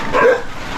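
A single short dog bark outdoors on a rural Palawan farm path among pineapple and mulberry plants, moderately close and standing alone in a quiet setting.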